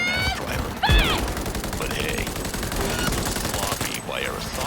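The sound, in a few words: gunfire in video game Cyberpunk 2077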